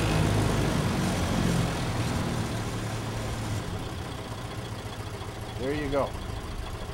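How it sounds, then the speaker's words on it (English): A car engine idles steadily in a pit with a low continuous rumble, a brief louder surge near the end, while someone talks briefly over it. "Now you're idling in with a fully running car."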